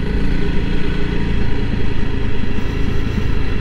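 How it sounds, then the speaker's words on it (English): Honda CRF300L Rally dual-sport motorcycle riding a washboard dirt road, its softer rear suspension chattering under a steady, loud engine drone that rumbles continuously throughout. "You can hear the rear end just chattering, you know, from the softer suspension, especially on the washboard."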